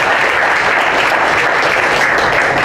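Steady, dense applause from an audience at an Occupy Venice film-series event, loud and close, filling the whole stretch without a break.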